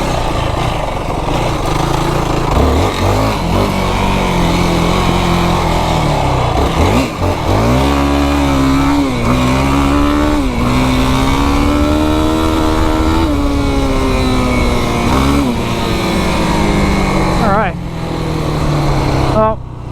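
Yamaha YFZ 450R ATV ridden on rain-damaged trails after monsoon rains, its engine droning loudly and close with repeated revs and pitch swells as it climbs and shifts, a rider talking over it.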